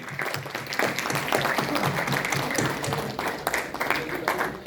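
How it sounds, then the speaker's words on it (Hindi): Loud, sustained audience applause at a leadership stage event in India, dense clapping filling the room for several seconds with some voices under it. "जोरदार तालियां सबके लिए।"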